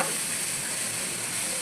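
Onion, garlic and coconut sautéing in a pan for Maharashtrian misal, a dense, even hiss of frying, close and uninterrupted for a brief moment.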